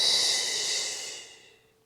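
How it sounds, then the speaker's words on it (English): A deep breath drawn in during a Pilates mat exercise, a close, airy inhale that fades away over about two seconds, with no talking. "Deep breath in."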